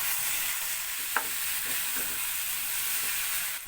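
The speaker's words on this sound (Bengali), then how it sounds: "এখন আমি এর মধ্যে এই যে আলু ফুলকপি এই পুরোটা এর মধ্যে দিয়ে দিচ্ছি" Potatoes, cauliflower and peas go into a pan of frying spice paste, giving a steady close sizzle with a brief clatter as the vegetables land and are stirred.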